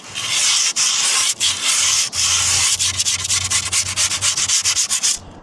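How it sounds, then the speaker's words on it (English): Hand sanding of a wooden skateboard deck, loud close rasping strokes in long sweeps that break into quicker, shorter rubs toward the end. "you can sand it a little extra"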